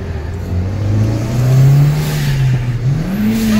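Volkswagen GTI with a manual transmission accelerating, its engine note rising steadily and loudly from inside the car, then dropping briefly at a shift before climbing again.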